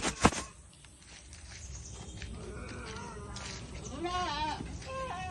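Goats, part Boer, bleat a few times nearby, wavering calls over background rustle and faint voices, with a sharp knock at the start.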